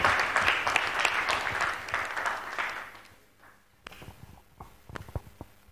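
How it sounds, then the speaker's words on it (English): A conference audience at a strategy launch event gives a round of applause, dense clapping that tapers off after about three seconds, followed by a few footsteps and scattered knocks in a quieter room. "Please, let's welcome him with a round of applause."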